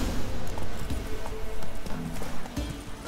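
Horse hooves from the video game The Witcher 3 clip-clop in a steady, loud, close rhythm, continuing without a break.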